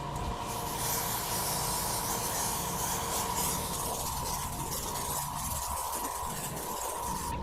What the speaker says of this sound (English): I'm going to go ahead and just put my mask on and spray this mold down thoroughly